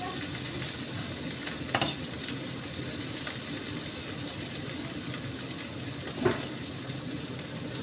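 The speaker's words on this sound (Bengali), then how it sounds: "দেখছেন তো কি সুন্দর ভাজাটা হচ্ছে, ছোট হয়ে যাচ্ছে একদম" Okra with egg fries in a pan, giving a steady, close, moderate sizzle. Two brief spatula knocks stand out near the start and near the end, with no talk.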